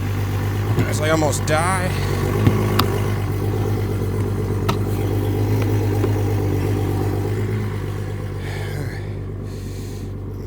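A boat outboard engine with its cowling off, jump-started with a jump pack, idles in a steady loud rumble while someone talks over it, with a few sharp clicks and squeaks.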